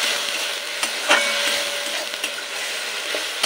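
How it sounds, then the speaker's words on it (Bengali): Onion-tomato masala for a bacha fish curry sizzles in a pan with a steady crackle. Close, sharp scraping and knocking strokes from a stirring utensil come at uneven intervals. "এই মশলাটা আমি একটু কষিয়ে নেব"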